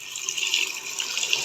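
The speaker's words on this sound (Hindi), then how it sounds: "अब इसमें हस्बे ज़रूरत पानी शामिल कर देंगे।" Water pours from a tap into a pot of chana dal, a steady bright gush that runs loud and close for the whole stretch, with no talking.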